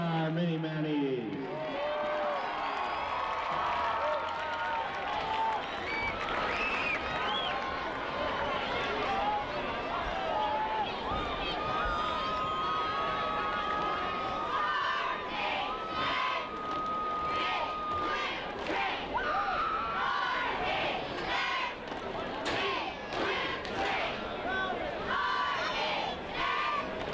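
A large crowd at a high school football game in Rogers, Arkansas roars, cheers and claps for a youth squad of mini Mounties, a loud, sustained wash of voices and applause with scattered whoops and shouts continuing throughout.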